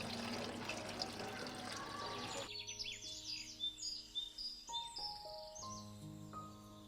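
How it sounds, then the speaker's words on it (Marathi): Water poured to refill a pot left out for sparrows on a balcony, a soft, quiet splashing trickle that stops after a couple of seconds, followed by bright, close sparrow chirps. "ते पाणी मी आता रिफिल करून ठेवते"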